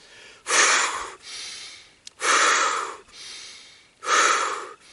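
Deep, dynamic breathing exercise in the Wim Hof style, made for coping with cold: three loud, full inhalations, each about a second long, separated by quieter exhalations in an even, rhythmic pattern, close-up with no talking.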